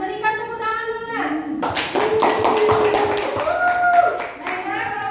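Classroom students clap their hands together, a dense burst of applause starting about one and a half seconds in and lasting to the end, with a voice and speech heard before and under it.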